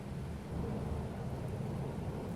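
Thunder from a lightning discharge rumbles low and continuous amid steady rain, a distant, muffled roar that holds without a sharp crack, with no voices.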